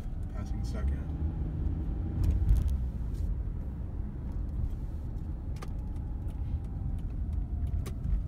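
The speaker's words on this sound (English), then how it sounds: "And we're just driving down Olive, passing Second." A car driving down Olive Street past Second Street in downtown Los Angeles, giving a steady low road and engine rumble with faint rattles and clicks, heard from inside the cabin with no one talking.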